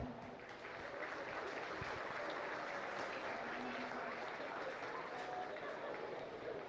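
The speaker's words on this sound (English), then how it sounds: "So give them all a round of applause." Steady applause from an audience at a county fair livestock arena, a continuous wash of clapping with a muffled, distant feel and voices mixed in.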